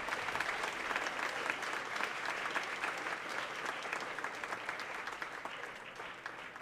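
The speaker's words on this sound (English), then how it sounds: "Can we have a big round of applause?" An audience at a high school jazz band showcase applauds steadily for a university jazz trio, a dense, even sound of many hands clapping that carries on without a break and with no voices standing out.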